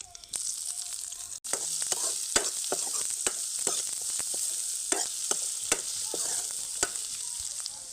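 Mustard seeds and curry leaves frying in hot oil for a village-style tomato rasam, a close, steady sizzle broken by scattered sharp pops and crackles throughout.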